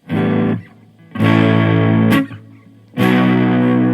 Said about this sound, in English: So that's the TC Electronic Mojo overdrive on there.